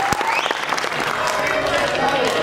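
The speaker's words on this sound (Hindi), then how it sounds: "एक बार जोरदार ताली हो जाना चाहिए भैया।" Audience applause at the Green Cine Awards 2020, a live award show: dense, steady clapping from a crowd that carries on throughout, with a voice speaking over it.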